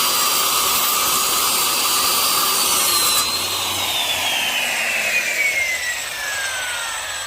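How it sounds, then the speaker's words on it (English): Steady, loud power saw cutting continuously through trunk parts of a Honda EF Civic sedan, with a high whine that shifts pitch partway through and a constant broadband rasp. "I'm gonna start sawing on these guys, sawing and sanding"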